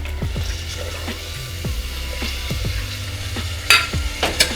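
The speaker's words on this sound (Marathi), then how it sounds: "आता दोन मिनटं आपण वाटाणा आणि मसाला फ्राय करून घेणार आहोत" Peas, peanuts and spice masala frying in a pan, with a continuous sizzle and repeated scraping strokes as they are stirred, plus a couple of louder clatters near the end.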